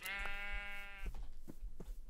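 Minecraft sheep bleat in a loud, close, wavering cry lasting about a second, with faint blocky game sounds and soft taps after it.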